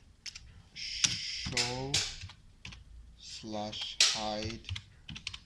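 Fingers tap quick bursts of keys on a computer keyboard, close and crisp, while someone speaks over the clicking.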